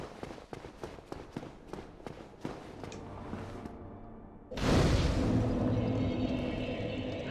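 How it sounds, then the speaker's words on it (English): Dark Souls game audio: light tapping steps, then an illusory wall vanishes with a sudden loud, sustained rushing whoosh that swells and holds to the end. "that was the noise of an illusion going away"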